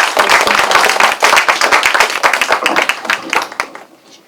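Lecture hall audience at a literary academic conference gives a loud burst of clapping for two professors, dense overlapping claps for about four seconds before tapering off abruptly.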